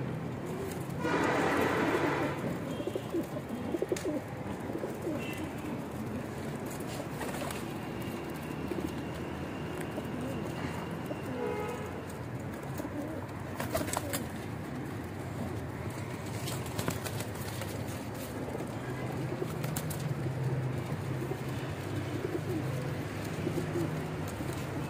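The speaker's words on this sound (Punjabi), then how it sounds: "ਜੀ ਤੁਹਾਨੂੰ ਫੜੇ ਕਬੂਤਰਾਂ ਦਾ ਸ਼ੋਅ ਕਰਾ ਰਿਹਾ" Captured pigeons coo softly in a rooftop setting amid a dense, noisy background. Faint wing flutters and scattered knocks mix in at a moderate distance.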